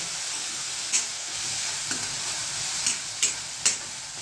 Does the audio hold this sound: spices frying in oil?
yes